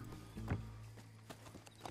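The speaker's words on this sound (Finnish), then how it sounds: "Hevoset päästää irti, ettei niille käy huonosti." Horse hooves clop faintly in Red Dead Redemption 2, with a few soft, irregular footfalls over about two seconds.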